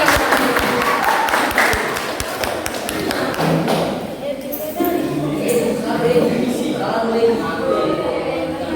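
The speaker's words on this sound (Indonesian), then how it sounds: "Tepuk tangan dulu, tepuk tangan." A classroom crowd claps together in a burst of sharp, dense hand claps that fades out after a few seconds, leaving room noise and faint chatter.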